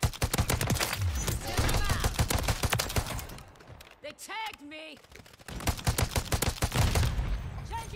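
Rapid bursts of gunfire crackle through a Modern Warfare 3 match, loud and dense. A brief lull comes midway under player speech, then the firing resumes.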